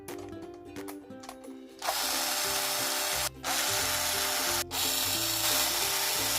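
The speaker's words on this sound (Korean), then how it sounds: "이제 볼트를 조여줍니다" Bolts on a computer cooler bracket being tightened with a power tool, a close, loud whirring buzz that starts after scraping handling sounds and pauses briefly twice.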